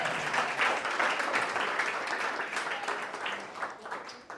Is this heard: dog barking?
no